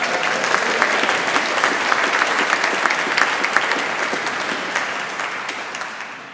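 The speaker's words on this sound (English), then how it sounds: "Let's give her another little clap." Concert audience inside Malmesbury Abbey claps for a performer in a loud, close patter of many hands, holding steady before tapering off near the end, with the stone interior adding some resonance.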